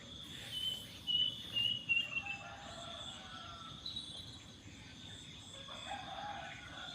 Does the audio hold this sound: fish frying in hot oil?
no